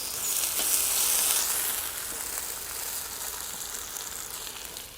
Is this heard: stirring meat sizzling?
yes